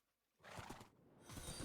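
Horses in Minecraft make a low rumble that swells in two louder bursts with a snorting, whinnying texture, near and fairly loud.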